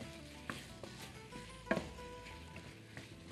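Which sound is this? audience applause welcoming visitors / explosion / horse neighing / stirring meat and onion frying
stirring meat and onion frying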